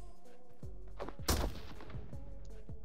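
Gunfire in the video game Metro Royale: a quick string of shots with one louder burst in the middle, over steady game background noise, with no talk.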